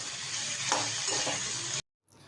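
Potatoes sauté in a pan with cumin paste, ginger paste, green chilli and tomato, giving a steady close sizzle with a few soft stirring knocks before cutting to silence.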